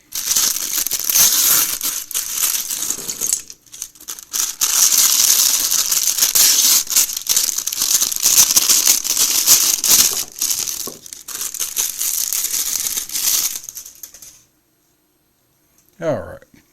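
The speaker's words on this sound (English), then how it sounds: "This old crinkling paper." Packaging paper from a G.I. Joe Classified toy box crinkles and crushes loudly and almost continuously, with brief pauses, close to the microphone, before falling silent near the end, where a short voice is heard.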